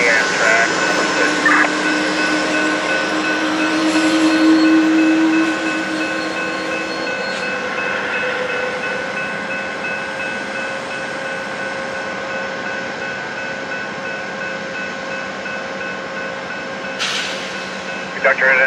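The Amtrak California Zephyr passenger train sits at Fort Morgan station in Colorado, its steady loud engine drone and rail rumble running throughout, with a brief horn or whistle-like tone early and a sharp click near the end.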